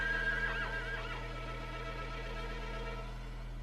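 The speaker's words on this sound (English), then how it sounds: "some horses came along the street where the electric lines had been laid and all of a sudden started getting shocked" Horses neighing and whinnying on a street where electric lines had been laid, as they are suddenly shocked; a loud wavering whinny near the start fades into faint neighs, with a steady low hum underneath.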